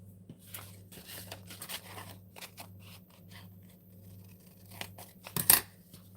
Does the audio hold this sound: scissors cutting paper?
yes